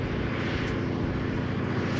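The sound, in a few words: airplane about to land on the water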